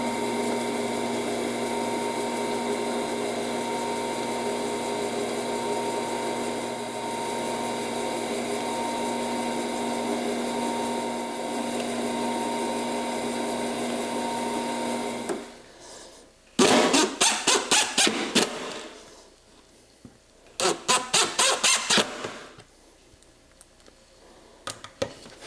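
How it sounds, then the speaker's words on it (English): A power drill boring pilot holes in wood for a drill press table makes a long steady motor whine. Then come two short bursts of harsh, rattling drilling, loud and close, with no talking. "I'm going to drill some pilot holes"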